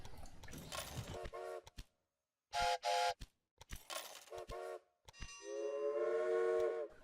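Steam train whistles in the Railway Empire video game sound in several short, clear blasts separated by silences, ending with one longer held toot.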